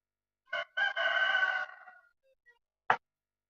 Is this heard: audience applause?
no